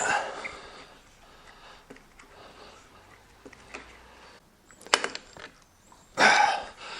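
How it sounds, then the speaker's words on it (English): A left-hand threaded CRG Arrow bar end mirror being unscrewed from a motorcycle handlebar, with faint intermittent ratcheting clicks and a couple of sharper metallic clatters near the end. "these are both left-handed threads, so you just unscrew it"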